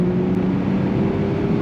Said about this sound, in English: I hope you guys can hear the exhaust pretty good